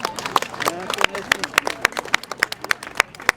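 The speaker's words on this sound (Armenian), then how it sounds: "Խնդրում եմ ծափերով ընդունեք մեր երկիչներին" An audience at an Armenian concert applauds to welcome the singers: scattered, uneven claps of a moderate-sized crowd, steady for a few seconds, with voices faintly audible underneath.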